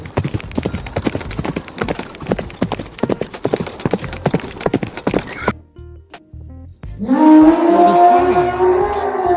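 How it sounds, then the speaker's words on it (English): Horses trot loudly and close by, their hooves in a quick, busy clip-clop that stops abruptly, and after a short pause one horse gives a long whinny. "horse, घोड़े,"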